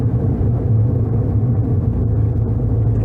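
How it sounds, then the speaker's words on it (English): Skinny tyres on a Volkswagen XL1 hybrid roll along the road, a constant low droning rumble heard from inside the moving car with no talking. "A certain amount of tyre noise despite the skinny tyres"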